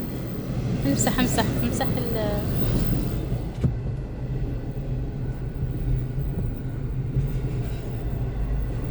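A very long freight train rolling past in Saint Augustine, Florida: a steady low rumble of rail cars with a couple of brief horn-like tones early on, while people talk and exclaim over it.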